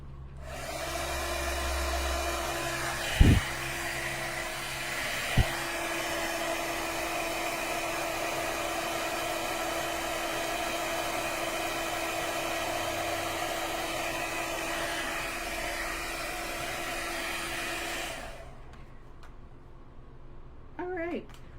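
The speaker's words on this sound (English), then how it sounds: "And I'm going to bring up my heat tool. And we are going to emboss." A heat tool blows hot air steadily to melt embossing powder on a card with a vellum layer, a constant whining drone lasting nearly twenty seconds with a couple of sharp clicks early on, then cutting off near the end.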